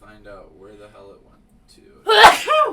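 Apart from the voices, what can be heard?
sneeze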